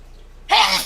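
One sharp, loud sneeze bursts out abruptly after a moment of near silence, close to the microphone, during a late-night tabletop roleplaying game session.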